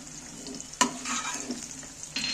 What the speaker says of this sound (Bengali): আমি পেঁয়াজগুলো ছেঁকে তুলে নিচ্ছি